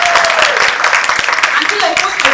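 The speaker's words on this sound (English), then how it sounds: "Can I have an applause from the crowd," A crowd at a conference session applauds, a dense, steady wash of clapping filling the room, with some voices mixed in.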